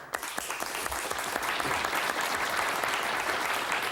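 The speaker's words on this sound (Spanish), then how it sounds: "el primer aplauso para nuestro concursante" Studio audience of a Spanish television game show applauding a contestant, a sustained, crisp burst of many hands clapping close and fairly loud after an initial sharp clap.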